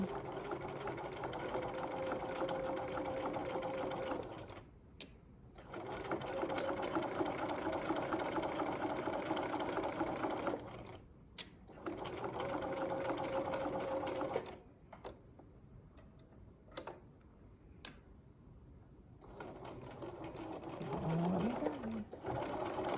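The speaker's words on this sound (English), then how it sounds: "I'm gonna go way out here on the edge, just through my seam allowance and on a machine baste." A sewing machine runs a long basting stitch along a seam allowance while making a lapped zipper, with steady motor bursts of a few seconds each, separated by short pauses and stops.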